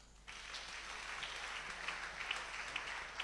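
A church congregation applauding, faint and distant, with dense steady clapping that starts abruptly and carries on for a few seconds.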